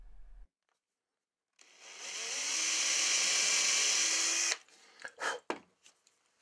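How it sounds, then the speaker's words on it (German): A power tool whirs up and runs steadily for about three seconds, polishing the carrier plate of a handmade wooden Fröbel crane model in a woodturner's workshop, then stops and is followed by a few sharp knocks and clicks. "Vor der Endmontage wird die Trägerplatte poliert"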